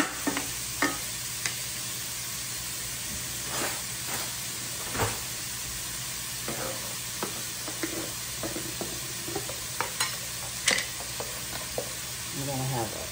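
Ground beef and softened peppers sizzle steadily in a pan for stuffed green peppers, with repeated scraping stir strokes and occasional clinks over a constant frying hiss, close and fairly quiet.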